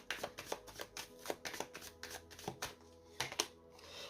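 Lenormand cards are drawn and handled at close range, with a quick series of crisp flicks, slaps and shuffling snaps in an uneven rhythm, and no voice over them.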